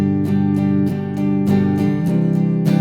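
Strummed guitar played with a loosened grip on the pick, steady repeated strokes ringing fully and evenly at close range with no voices over it.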